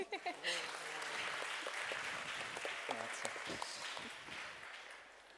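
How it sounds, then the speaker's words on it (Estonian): Audience at an Estonian youth panel discussion applauding a speaker, a steady, moderately quiet spread of clapping from a seated crowd with a voice briefly heard at the start. "Aplaus!"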